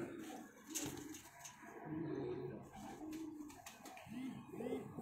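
Pigeons in a breeding loft give soft, repeated throaty coos close by in an uneven rhythm, with faint rustling and background noise between calls.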